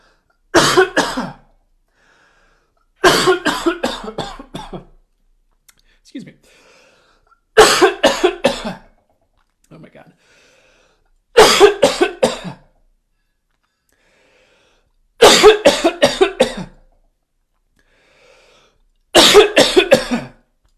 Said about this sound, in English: I'll probably start coughing